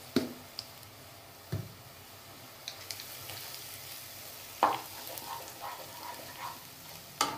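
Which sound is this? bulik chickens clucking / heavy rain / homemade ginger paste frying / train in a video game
homemade ginger paste frying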